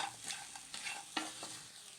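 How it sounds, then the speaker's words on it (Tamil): Shallow-fried chapathi pieces being stirred and tossed in a pan for chilli chapathi, a few soft scraping strokes with light sizzle, fairly quiet and close. "நம்ம ஷாலோ ஃப்ரை பண்ண சப்பாத்தியை இதில் சேர்த்துக்கலாம். நல்லா மிக்ஸ் பண்ணிக்கலாம்."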